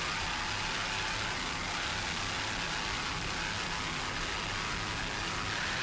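Twin 572 cubic inch, 1,500 horsepower Stotler racing engines drive a 42-foot Fountain V-class powerboat racing off Ocean City, heard as a steady, dense, broadband roar with no pauses or voices.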